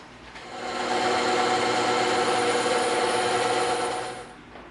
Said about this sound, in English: we're going to tilt our bandsaw table so that when we slide this through, it's going to cut that nice bevel for us